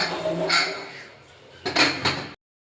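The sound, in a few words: pressure cooker lid being closed on biryani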